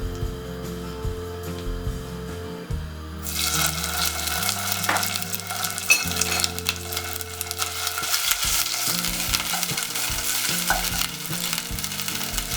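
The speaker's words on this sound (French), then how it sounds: "faire revenir une bonne cuillère de notre pâte de curry rouge dans un petit peu d'huile" Oil sizzles sharply as red curry paste hits a hot pan at about three seconds, with stirring scrapes continuing under a steady, loud frying hiss; music plays underneath.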